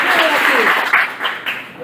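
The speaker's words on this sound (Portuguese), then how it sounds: "Palmas." Audience clapping at a philosophy talk, a short burst of dense applause that fades over about two seconds, with voices mixed in.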